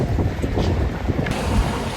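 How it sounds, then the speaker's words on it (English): Strong wind roars across a Paris café terrace, buffeting the microphone with a steady, loud, rumbling wash of noise that never lets up. "all of the ashtrays and menus are flying because of the wind"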